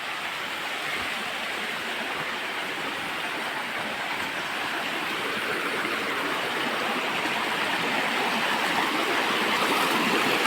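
A river stream rushes through a forest near a waterfall, giving a steady, dense wash of flowing water that stays constant and grows slightly louder throughout.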